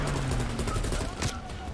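Rapid bursts of gunfire in Call of Duty Cold War, a video game, crackle densely and loudly across the short span, with several sharp shots layered close together.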